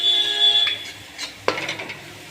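Masala being stirred in a cooking pan for a Bengali rui fish curry, a few short scraping and clinking strokes of a spoon against metal over a faint background hum, close and moderately loud.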